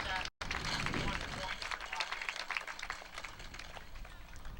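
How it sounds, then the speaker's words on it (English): Applause and scattered encouragement from a small crowd at a PSAC outdoor track championship meet, sustained and moderately loud beneath a commentator's voice as a hurdler nears the finish. "And a nice applause here as Martin's going to finish up"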